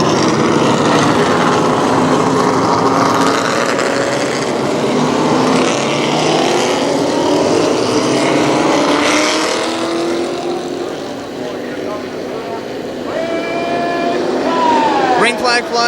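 ARCA supercars race at Kil Kare Speedway in a steady, loud roar of engines, with a commentator talking over the racket the whole time.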